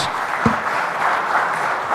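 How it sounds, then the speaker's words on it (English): An audience at the opening session of an industry summit applauds, producing steady, dense clapping that fills the whole stretch with no voices over it. "Can we have a round of applause to thank our speakers?"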